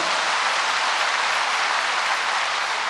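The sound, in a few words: congregation applauding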